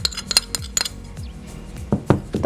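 A metal spoon clinks and taps against a container as rice flour is poured in for making kelor dawet, a series of sharp, close, irregular chinks.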